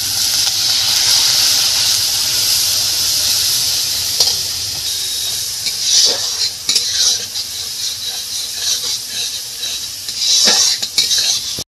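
Water poured over coriander and cumin powder frying in a pan for coconut ghugni, giving a loud, steady steaming sizzle and hiss that flares up in bursts as the spices are stirred, with no voices.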